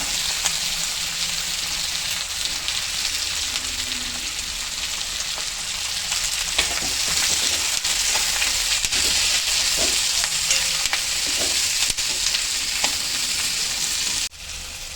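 Onions fry in a pan for a bitter gourd thokku, giving a loud, continuous, rain-like sizzle with occasional stirring clicks, which cuts off abruptly near the end.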